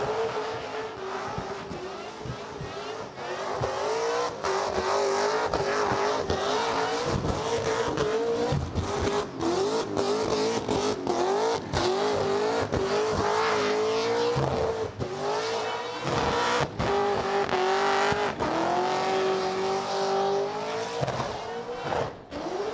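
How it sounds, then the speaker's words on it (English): A big Holden Commodore's engine roars at high revs for a long stretch during a burnout competition at Summernats 35, tires squealing continuously, loud and close, with no talking. "We definitely want to see Joel Snell put this big Commodore through its paces"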